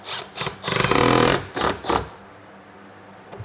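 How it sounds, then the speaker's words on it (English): Power drill driving screws into a wooden stair riser during a basement staircase remodel, several short whirring bursts, one longer sustained run, close and loud, then quiet. "Now I'm just putting 2 screws in the middle, and then I'm gonna come behind and throw longer screws that'll go all the way through this riser into the stringer"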